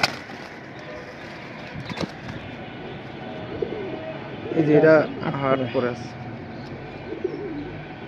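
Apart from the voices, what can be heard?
pigeons cooing at a pigeon sale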